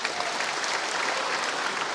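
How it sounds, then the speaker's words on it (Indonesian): An audience at a West Java political rally for Prabowo-Gibran claps steadily, a dense, even roar of hands filling the whole moment with no pauses. "Tepuk tangan Pak."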